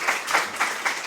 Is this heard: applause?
yes